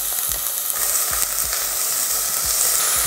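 Garlic and onion sauté in hot oil, giving a steady, close sizzle with repeated low knocks and scrapes of a utensil stirring through the pan.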